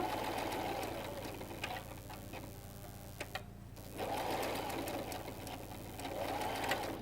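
A domestic sewing machine runs in short bursts while backstitching at the end of a seam on a salwar, a close, rapid mechanical whir that pauses briefly with faint clicks, then resumes.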